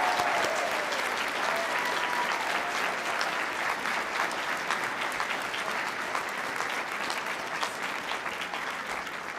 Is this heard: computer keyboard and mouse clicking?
no